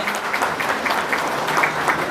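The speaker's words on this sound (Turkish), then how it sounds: "Ben şimdi bir alkış isteyeceğim." Audience applause at an award ceremony for a knowledge quiz competition, steady dense clapping from a crowd filling the room for a couple of seconds without talk.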